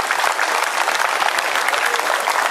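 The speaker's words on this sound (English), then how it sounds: "So how about a really big round of applause for these guys?" A crowd at a New York State Police rappelling demonstration claps steadily in dense, sustained applause, loud and continuous throughout.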